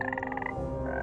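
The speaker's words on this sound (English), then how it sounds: "Green frog." Green frog croaking in the Everything video game, a rapid pulsing ribbit that fades into a steady synthetic tone, loud and close over ambient game music.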